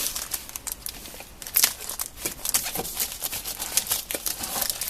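Cardboard box and plastic wrap of a Motospeed CK888 mechanical keyboard and mouse combo, slightly crushed in shipping, being opened by hand: close, steady crinkling and tearing with sharp rustling bursts throughout, no talking.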